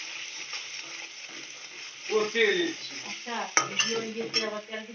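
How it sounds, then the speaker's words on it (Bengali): Spice masala fries in a pan while a utensil stirs and scrapes it, with metallic clinks against the pan over a steady close sizzle that grows busier partway through. "এবার মশলাটাকে কষিয়ে নিচ্ছি"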